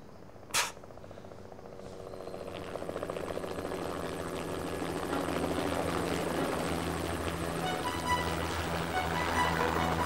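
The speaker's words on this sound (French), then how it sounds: "Nous attendons un hélicoptère." A helicopter approaches, its rotor thump and engine whine steadily growing louder and closer after a brief sharp knock at the start.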